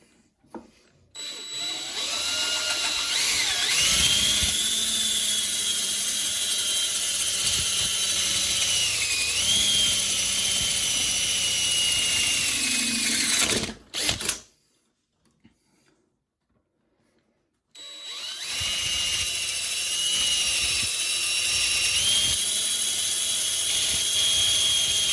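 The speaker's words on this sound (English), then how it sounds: "we're going to just carry on drilling through the front of the cylinder here and hopefully get to the fixing screws" A power drill bores steadily through the front face of a lock cylinder, a loud close whine with shifting pitch that cuts off briefly, leaving near-silence, then resumes.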